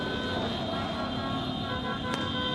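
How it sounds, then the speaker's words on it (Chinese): Car horns honking during a street celebration by crowds of football fans in Paris after a PSG championship win, dense traffic noise and crowd roar with occasional brief toots. "汽车喇叭声一直放"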